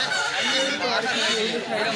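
Noisy Brahma chickens cluck and squawk at a crowded market, several birds calling over each other close by, with people chattering in the background.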